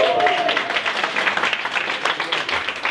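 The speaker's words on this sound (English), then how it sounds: "Give yourselves a round of applause for coming to see Mark Boyle." An audience at an Inspiring Minds Forum talk gives a round of applause, dense clapping that stays steady throughout, with a brief voice at the start.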